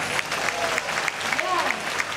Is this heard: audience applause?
yes